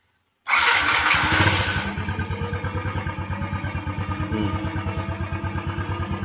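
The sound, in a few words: motorcycle engine starting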